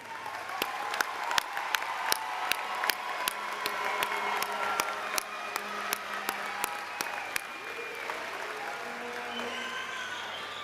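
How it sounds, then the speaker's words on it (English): Audience at a Springfield Technical Community College commencement breaks into sustained applause, a dense wash of many hands with sharp individual claps standing out, steady and fairly close throughout. "join me in a round of applause for everyone who got you to this point"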